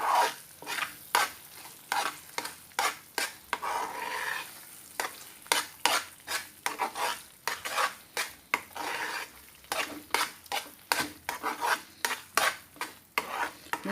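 Annavaram prasadam cooking with ghee in a pan, a spoon scraping and stirring in quick repeated strokes with soft sizzling between them, close and fairly quiet, no voices.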